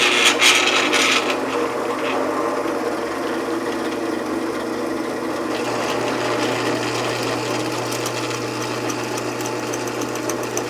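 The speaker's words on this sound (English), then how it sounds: "So let's see if we can get these drilled out." A steady, loud mechanical whirring and grinding of a drill biting into metal rivets on GTO hood hinges runs continuously, with a harsher rasp at the start.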